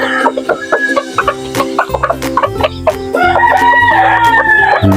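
A large, light-bodied gamecock rooster clucks and crows close by on a farm, with bursts of other birds and cackling mixed in and a louder crow toward the end.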